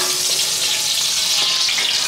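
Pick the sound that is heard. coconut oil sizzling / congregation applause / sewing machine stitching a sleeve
coconut oil sizzling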